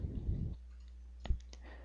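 Two quick mouse clicks in CATIA V5, a sharp paired tick standing alone over a low steady hum after a brief stretch of noise.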